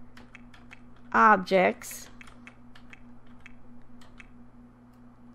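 Quick keyboard clicks from typing a cheat code on a computer keyboard while playing The Sims 4, a run of close, light taps on either side of a short spoken phrase, over a steady faint hum.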